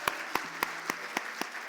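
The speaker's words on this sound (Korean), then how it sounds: "우리 그분들을 위하여서 한번 격려의 박수 한번 올려드리면 좋겠습니다" Scattered, sparse claps at a Korean church service in Orange County, about seven separate sharp hits in slow, even succession, fairly quiet and close, with no voices over them.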